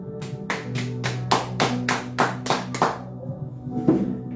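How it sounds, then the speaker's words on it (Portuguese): A congregation at a Portuguese-language evangelical church service claps in unison: about ten sharp, evenly spaced claps in a quick steady rhythm, a short pause, then one more clap, close and loud with no talking. "Aplauda ao Senhor"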